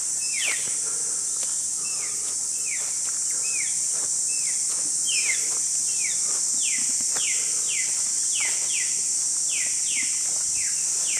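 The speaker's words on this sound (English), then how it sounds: "Birds everywhere." Birds chirp in a park in Darwin with a steady insect drone beneath them, their repeated short calls falling in a regular rhythm at moderate distance under a constant high buzz.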